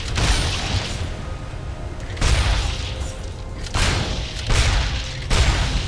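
Cannon fire in the Torchlight 2 video game: a series of heavy booming shots at irregular intervals, loud and close, with rumbling tails between blasts.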